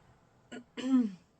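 A short throat clearing, a brief rasp followed by a longer, rougher clearing, close and alone in a quiet space.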